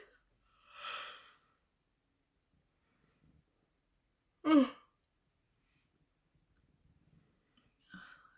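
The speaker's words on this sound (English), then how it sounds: "this yawning is annoying for me, and I'm sure for you." A person yawns indoors: a drawn-out breathy exhale, then a sharper voiced yawn a few seconds later, and a brief breath at the end, all quiet and separated by silence.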